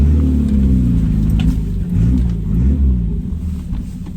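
A 1981 Dodge Challenger, running without belts and with a thermostat still needing replacement, rumbles loudly from close by as it drives, engine pitch rising and falling through revs with deep low-frequency drone and no talking.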